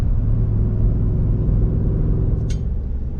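An RV rolls down a bumpy Arizona interstate, a steady low road rumble and engine drone filling the cabin, with a brief sharp rattle near the end.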